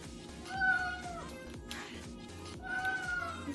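A house cat meows close by, two drawn-out calls separated by a pause, over a low steady hum of background noise with no talking.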